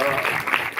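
A cinema audience applauds the production team after a film screening, with steady clapping under and between spoken remarks.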